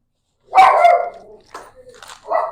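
A few sharp dog barks up close, a quick burst of yaps followed by softer yips and whimpers, with no talking over them.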